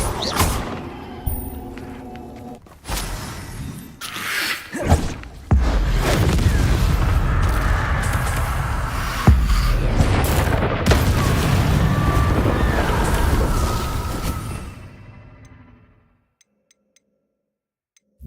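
Spell blasts from Hogwarts Legacy burst out in a loud barrage: booming thuds and crackling impacts pile up over about fifteen seconds of near-continuous magical combat, then cut to silence.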